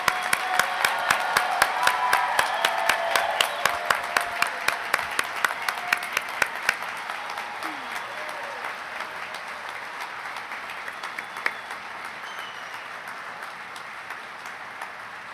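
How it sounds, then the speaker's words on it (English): Audience applause for graduates at the NSCC spring 2025 commencement, a large hall of clapping with a rhythmic unison beat at first that loosens into scattered, gradually thinning claps. "Will the audience please join me in one final round of applause for our graduates?"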